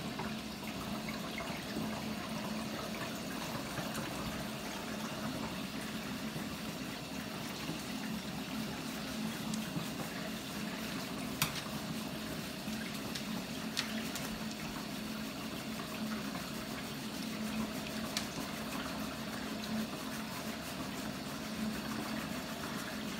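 Steady running water pours continuously while a Pomsky dog is being washed, a broad constant rush with faint pump-like hum underneath and no talking.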